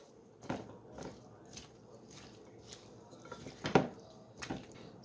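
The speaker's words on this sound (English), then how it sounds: "Just gonna mix it all up." Salad greens being tossed with pink salt and fresh cracked black pepper in a bowl, a soft run of scraping, rustling and light clinks at irregular intervals, close and quiet with one sharper knock near the end.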